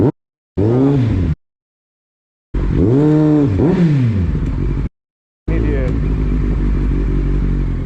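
A motorcycle rides through road traffic in loud bursts, its engine rising and falling in pitch as it revs and passes, with abrupt silent gaps between segments and a steady rumble in the final stretch.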